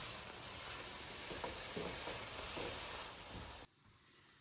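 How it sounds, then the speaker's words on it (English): Southwest cauliflower rice simmers in a pan with a steady, close sizzling hiss and a few faint stirring scrapes. It cuts off abruptly near the end. "we'll let this simmer for just a couple more minutes"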